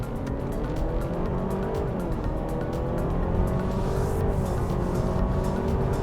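A Honda Civic e:HEV RS hybrid roars steadily at full throttle from 30 km/h, a continuous loud drone with rising tones and road noise throughout, no voices.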